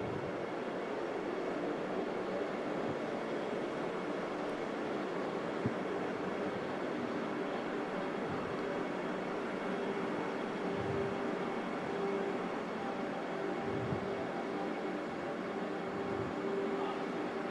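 A Vande Bharat express train runs while picking up speed, a faint, steady rumble of wheels and rolling coaches with soft periodic thumps.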